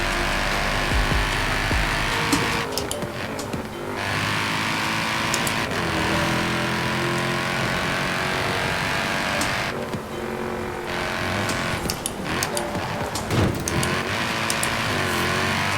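A Mercedes-Benz C63s AMG engine in the Forza Horizon 4 racing game roars continuously, rising and falling through revs with brief gear-shift dips during drifting, loud and close throughout without speech.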